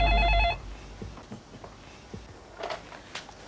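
A telephone rings with one short, bright electronic burst at the start, then only faint clicks and soft room sounds follow.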